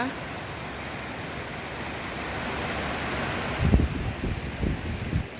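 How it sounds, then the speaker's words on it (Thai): Heavy rain pours down on a street lined with shops, a dense steady wash of noise with a few louder splashes near the end. "ฝนเปียกหนักมากๆเลยนะคะฝนตกหนักนะะ"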